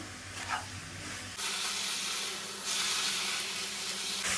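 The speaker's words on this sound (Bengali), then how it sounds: "এই নারকেল আর চিনি মানে একসাথে নেড়ে মিশিয়ে যখন এটা আঁশ হয়ে আসবে তখন হচ্ছে এটা নামিয়ে ফেলবো" Coconut and sugar filling cooks in a pan while being stirred, a continuous close hissing and sizzling that swells louder in surges, with no talk.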